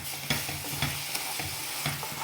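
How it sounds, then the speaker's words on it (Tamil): Tomato paste frying with chillies in a hot pan: a steady, close sizzle fills the clip, with a few sharper scraping stirs marking a loose rhythm and no voices. "இப்போ நம்ம அரைச்சி வச்சுருக்க தக்காளி பேஸ்ட்டை இதில் சேர்த்துக்கலாம்."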